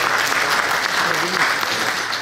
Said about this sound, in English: You don't deserve a round of applause